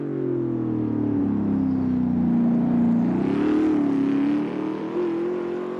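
Modded race car in the Automobilista 2 sim, engine droning loud and steady with shifting pitch, exhaust flames crackling and spitting, no voices.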